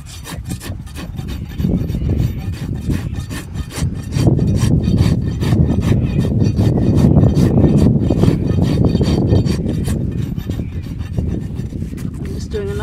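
A hand rasp bevelling and smoothing the outer wall of a horse's hoof during a barefoot trim: continuous close, loud, scratchy strokes in a steady back-and-forth rhythm lasting throughout.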